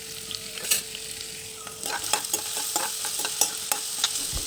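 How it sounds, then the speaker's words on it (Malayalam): Ginger and garlic frying in hot oil in a pan, a steady bright sizzle with scattered crackles and spatters, close and continuous, with occasional stirring clinks and no talking. "ഇഞ്ചി വെളുത്തുള്ളി ഇട്ട് കൊടുത്തിട്ട് മൂപ്പിച്ചത് മൂത്ത് വരട്ടെ"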